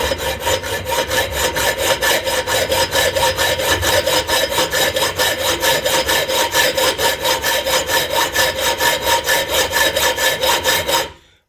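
Saw cutting through an old Honda CB750 triple clamp to inspect a poor-quality weld, a steady rapid back-and-forth rasping of many quick strokes, loud and close, running without pause before stopping abruptly.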